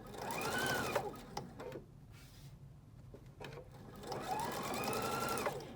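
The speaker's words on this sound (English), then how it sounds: "When I'm sewing, and I stop, that needle's down" Husqvarna Viking Epic 2 sewing machine stitching in two close, steady bursts, whirring at the start and again at the end with a quieter pause in between.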